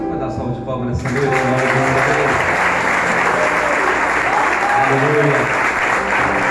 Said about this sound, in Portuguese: Você pode dar salva de palmas nessa noite?